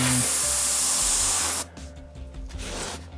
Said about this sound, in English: to just put a pass with the airbrush over the whole thing in patches